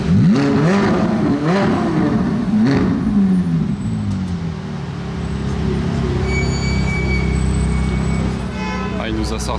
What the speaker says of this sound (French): Il vrombit le G-Brabus là-bas.